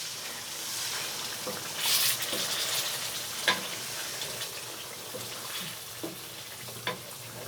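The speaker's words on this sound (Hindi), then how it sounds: "इसे अच्छे से मिक्स करेंगे।" Fish korma sizzles and fries in a pan while being stirred, with a continuous crackling hiss and several sharp spoon-against-pan knocks spread across the stretch. No voices are heard.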